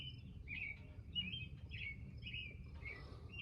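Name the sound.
bird singing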